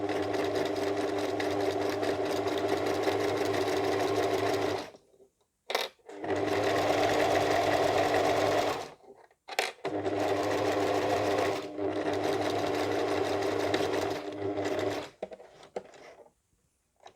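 A sewing machine stitching a folded fabric hem on a shower sponge project, running in three long steady whirring bursts with brief silent pauses between them.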